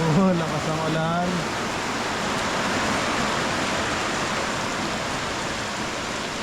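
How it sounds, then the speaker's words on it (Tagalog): Heavy rain pours down in a continuous loud, dense roar, with a brief voice speaking at the start. "Ang lakas ng ulan mga kabisig."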